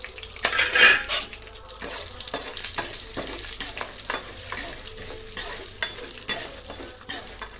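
Urad dal, chana dal, cumin and mustard seeds roast in hot oil, sizzling softly while a metal spoon scrapes and clinks against the pan in repeated stirring strokes, with no voices.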